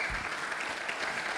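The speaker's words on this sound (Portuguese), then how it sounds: "Uma salva de palmas para os atores." A congregation claps for the actors during a church service, a brief burst of steady applause from the room, moderately loud and unbroken.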